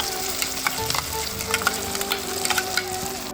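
Boiled gongura (sorrel leaf) paste fries in a pan with ginger-garlic paste and green chillies, a close, busy sizzle broken by repeated scraping stirs.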